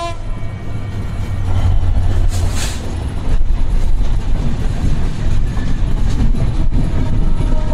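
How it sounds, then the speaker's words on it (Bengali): The Rajshahi Silk City express train rolls onto the Jamuna rail bridge, a loud, steady rumble and rattle of wheels and carriages heard from on board, with a brief horn-like tone rising early on. "ট্রেনটা এখন যমুনা রেল সেতুতে উঠতেছে"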